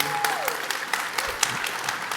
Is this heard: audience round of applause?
yes